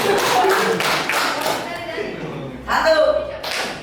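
Students in a classroom clap in a rhythmic counting game, a few sharp claps at the start and another short burst near the end, with people talking and chuckling in between.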